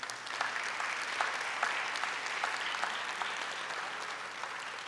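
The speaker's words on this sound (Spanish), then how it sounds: "Démosle nuevamente un aplauso al Señor en este día." Church congregation applauding during a worship service, a steady wash of many hands clapping with sharp individual claps standing out, sustained at even loudness throughout.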